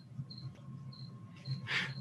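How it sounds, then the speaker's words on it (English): Feeder crickets kept for reptiles chirp in short, repeated high-pitched trills against a low background hum, with one louder burst near the end. "what you're hearing is some of the crickets that we use to feed to the reptiles"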